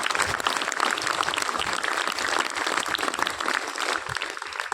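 A crowd claps continuously at a Chandrayaan-3 mission event, dense and fairly loud, a steady burst of applause without a break.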